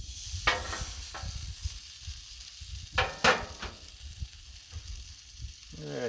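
A veggie burger frying on a Blackstone griddle over heat set too high; a close, continuous sizzle broken by several sharp scraping clinks of a spatula, with no voices.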